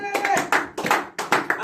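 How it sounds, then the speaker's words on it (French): A church congregation at a French-language service claps in a few close, rhythmic waves of applause, with voices mixed in behind the clapping. "On acclame pour Dieu."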